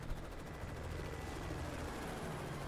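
Helicopter in the video game Modern Warfare 3, a loud, steady rotor thump and turbine drone filling the scene, with faint gunfire mixed in underneath and no speech.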